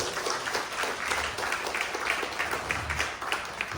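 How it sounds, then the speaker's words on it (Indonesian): Applause breaks out in a small room during a team discussion meeting, with uneven clapping from a modest group that stays moderately loud across the short span. "Mau nggak tepuk tangan buat MP2?"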